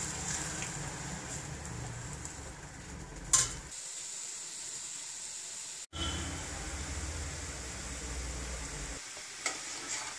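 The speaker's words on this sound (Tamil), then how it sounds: "நல்லா கொதிச்சிருச்சு." A pot of tamarind-water rasam simmers on the stove, giving off a soft, even hiss and bubbling that runs on steadily, with one or two brief knocks in between.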